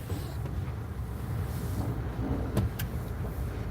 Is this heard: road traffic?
yes